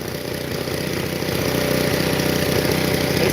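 A lawn mower engine with a worn carburetor idles steadily and loudly up close, its fast, even chugging rising slightly in strength over a few seconds.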